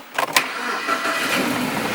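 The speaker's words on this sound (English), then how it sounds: "Turn the car on now." A car engine starts with a brief crank of a few quick chugs and then settles into a steady, smooth idle, heard up close from inside the car.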